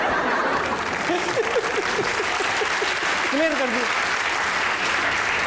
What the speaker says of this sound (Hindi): ताली बजा रहे थे।